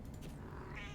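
A cat meows in a cat-finding video game, a single faint, short mewing call rising in pitch near the end, heard alone at low volume.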